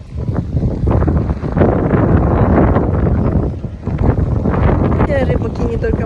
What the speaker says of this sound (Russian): здесь очень сильный ветер.